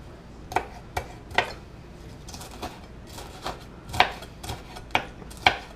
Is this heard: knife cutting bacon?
yes